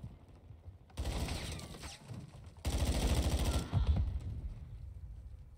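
A sentry gun firing in Call of Duty MW2: two bursts of rapid automatic gunfire, each lasting a second or more, rattle loudly over faint game background noise.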